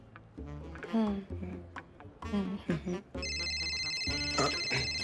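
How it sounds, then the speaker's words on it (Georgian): People talk at first, then a telephone starts ringing partway through with a steady, repeating electronic ringtone that carries on to the end. "ტელეფონია."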